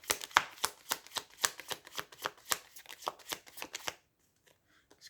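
Tarot cards being shuffled during a spiritual card reading, a steady run of crisp riffling bursts for about four seconds, close and fairly loud, then near silence with a few faint card taps.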